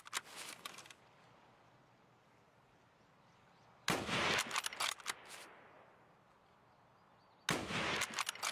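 Rifle gunfire in a first-person shooter video game: three loud, sharp bursts of shots, an early one followed by two later volleys a few seconds apart, separated by quiet background hiss, with no talking.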